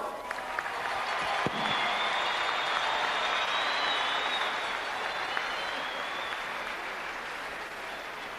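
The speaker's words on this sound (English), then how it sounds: "a big round of applause for Mayor Heather Fargo" A large arena crowd at an NBA game between the Kings and Grizzlies applauds for the Sacramento mayor, a steady wash of distant clapping and crowd noise that holds evenly throughout.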